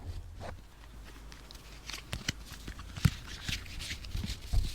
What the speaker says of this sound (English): let's see if I can get some nice card shuffling audio